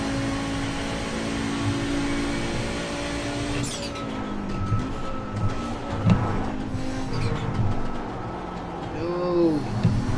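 An Audi 90 Quattro GTO race car engine in iRacing drones with rising and falling turbo whine, gear changes shifting the pitch, a steady loud mechanical hum throughout.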